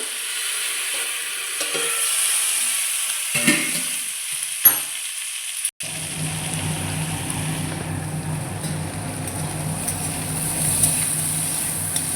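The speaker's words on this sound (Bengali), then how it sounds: "এইভাবে ভেজে নিতে হবে" Mixed vegetables fry in a pan, starting with quiet stirring and a couple of sharp clatters of utensil on pan. A loud, steady sizzle then fills the rest, close by, with no one speaking.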